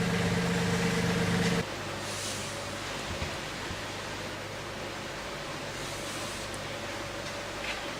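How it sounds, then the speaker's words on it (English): A Mahindra 1526 tractor's engine idles loudly for about a second and a half, then is switched off, leaving only a low, quiet background rumble. "so now we're going to shut the tractor off."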